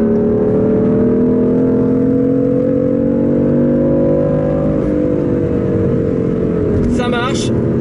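A 2014 BMW M3/M4 engine revs hard toward its 7600 rpm limit, a loud, close, rising mechanical howl that builds steadily, dips at a gear change and then climbs again before a sharp shift near the end.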